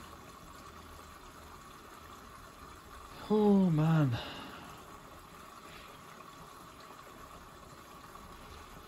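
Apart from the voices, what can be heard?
Dyson CR01 Contrarotator washing machine filling with water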